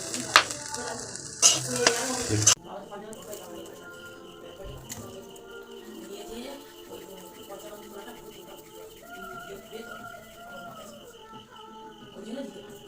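Mughlai paratha filling stirred and fried in a pan: a few loud scraping, sizzling strokes over the first two seconds, then a quieter stretch with someone talking and birds cooing faintly.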